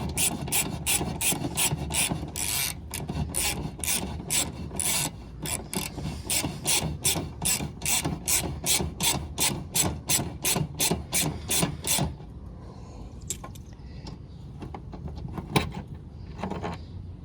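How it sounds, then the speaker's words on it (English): A box wrench ratchets on the rear wheel nut of a Honda GL1500 Goldwing motorcycle, a fast even series of close rasping clicks for about twelve seconds, followed by quieter scattered tool noises. "I'm going to hold the nut on the back side with a box wrench"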